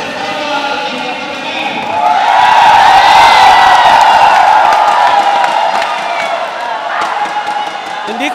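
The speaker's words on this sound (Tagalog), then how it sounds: "Hindi ko narinig ang tawag ng official mga kaibigan dahil sa sobrang ingay ng crowd." A loud basketball crowd at a CLG Cup 2024 game between Baganga and Boston, with a dense, sustained roar of cheering and whooping that swells midway. A commentator's voice and sharp bounces or slams cut through the din.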